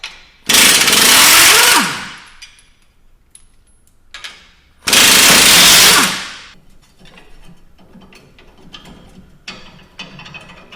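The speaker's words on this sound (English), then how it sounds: "Now completely remove the U-bolts on the opposite side." Two loud bursts of a power impact tool working U-bolts loose on a Toyota Tacoma axle during a coilover lift install, each lasting over a second, followed by quieter clinks and shop handling noises.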